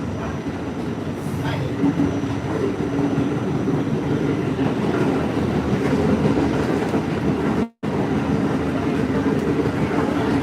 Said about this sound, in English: this train goes underground